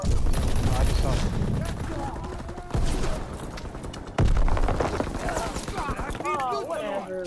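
Rapid bursts of incendiary-round gunfire crackle through a Call of Duty: WWII War mode match, loud and dense, with players talking over the shots throughout.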